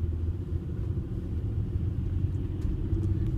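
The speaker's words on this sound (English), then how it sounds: "Truck's turning into the library." A truck turns on a snowy winter main street in Quechee, its steady low engine rumble continuous and fairly close, with no voices.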